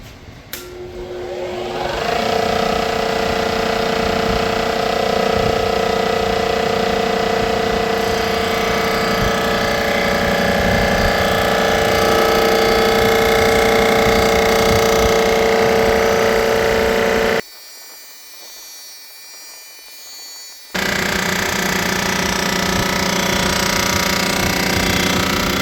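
A machine resurfaces a Jeep 4.0 cylinder head with a loud, continuous grinding drone that runs steadily for most of the stretch. It cuts out briefly near the end, then starts up again.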